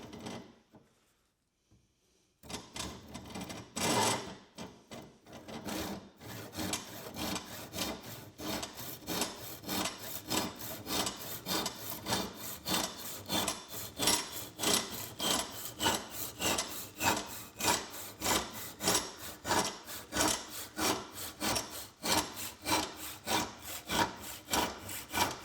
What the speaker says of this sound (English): we're going to take a fine tooth saw